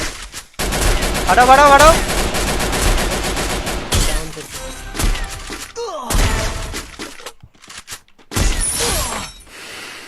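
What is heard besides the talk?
gunfire in shooting video game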